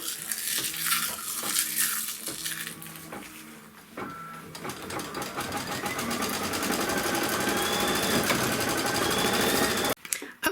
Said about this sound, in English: it's going to stitch the satin stitch and the little detail